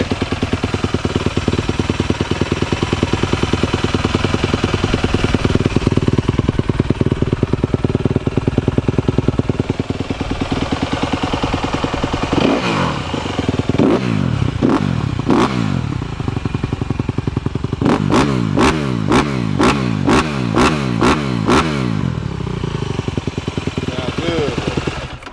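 A dirt bike engine runs steadily after an electric start, with sharp revving blips and clattering bursts toward the end, close and loud throughout.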